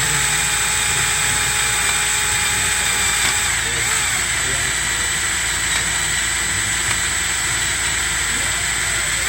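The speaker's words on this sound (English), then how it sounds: "I need to just drill it and then bend it up" A power drill grinds continuously into seized EGR bolts on a 6.7 engine, a loud, steady whining hiss without pause throughout.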